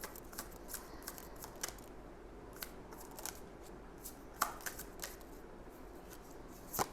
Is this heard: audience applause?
no